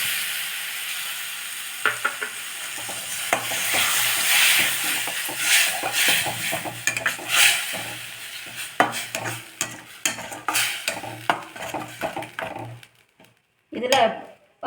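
Ground tomato paste sizzles and fries in a pan for a makhana gravy, with repeated scraping stirs of a spoon through the thick mixture, fairly loud and close, the frying hiss continuing throughout and briefly dropping away near the end.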